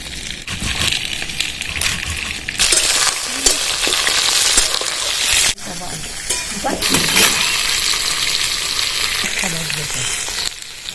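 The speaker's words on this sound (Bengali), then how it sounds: "হাফ পটলগুলো ভাজা হয়ে গেছে," Pointed gourd (potol) frying in hot oil, giving a loud continuous sizzle broken by sharp shifts and clatter as pieces are moved and stirred, with the frying sound carrying on throughout.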